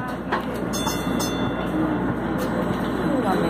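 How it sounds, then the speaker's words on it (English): Train carriage rumble with a faint rhythmic rattle of wheels on rails, steady and continuous, heard from inside the car. "I'm on the train now"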